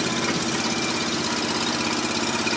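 Small engine running steadily on a homemade hydraulic wood splitter with auto-cycle and dump valves, a constant close, loud drone with a fast knocking pulse and no voices.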